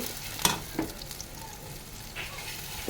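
Onion frying in hot oil in a pan, a soft steady sizzle with a few sharp stirring clinks near the start, no talking.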